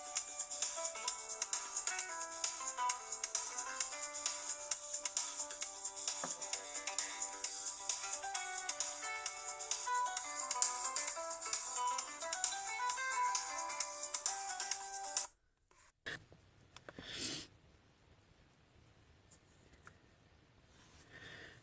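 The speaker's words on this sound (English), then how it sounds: "Sorry, I was getting a phone call." A mobile phone rings for an incoming call: a bright melodic ringtone loops loudly and steadily for about fifteen seconds, then cuts off abruptly, leaving only faint rustling and a brief handling noise.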